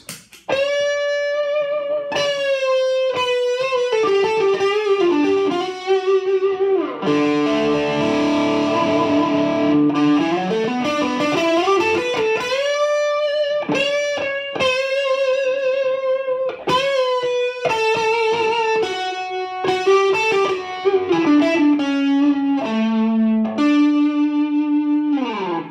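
Electric guitar through the crunch channel of a Peavey Ultra 120 amplifier, gritty overdriven sustained lead notes with slides and bends, plus a strummed chord passage, loud and continuous throughout.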